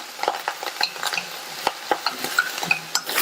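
Onion, curry leaves, dried red chillies and green chillies sautéing in hot oil for a Tamil poriyal, with steady sizzling broken by repeated scrapes and clinks of a spoon stirring against the pan, close and moderately loud.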